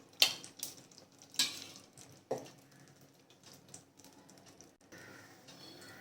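Ghee heats in a pan for tempering a buttermilk rasam, with a few sharp utensil clicks and taps over a soft, low sizzle.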